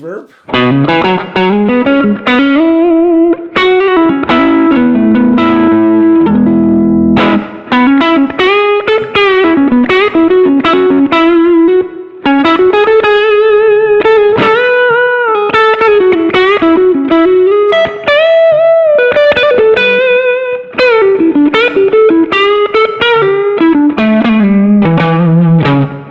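A distorted electric guitar played through a Kasleder Sweet Little Thing pedal plays a continuous melodic line with heavy reverb and effects, loud and sustained throughout, with no talking.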